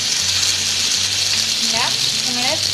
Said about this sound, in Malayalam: ഇനി നമുക്ക് അതിലേക്ക് പൊട്ടാറ്റോ ഇട്ട് കൊടുക്കണം ഫ്രൈ ചെയ്യാൻ.